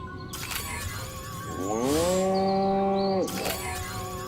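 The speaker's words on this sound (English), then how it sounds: "Moo?" A cow moos once inside the video game Destroy All Humans, a loud, drawn-out low bellow with a rising then level pitch, set between quieter stretches of game ambience.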